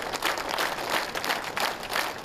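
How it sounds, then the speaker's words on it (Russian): Mourners give a short burst of scattered, rhythmic clapping as the hearse carrying journalist Pavel Sheremet's coffin leaves for the cemetery. The applause is moderate in volume and heard alone. "Катафалк, который повез гроб с телом Шеремета на кладбище, провожали аплодисментами."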